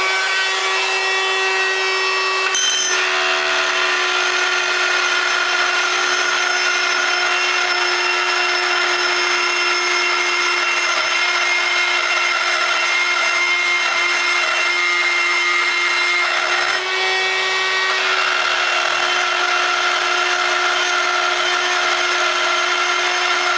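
A carbide burr on a rotary tool grinds a cast iron piece in preparation for a weld repair, giving a loud, steady high-pitched whine with a brief dip near the start and another shift later, with no talking.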